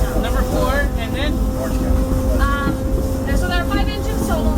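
Steam engine number 4 of the Disneyland Railroad runs with a steady low mechanical rumble and rolling noise throughout, while people talk over it.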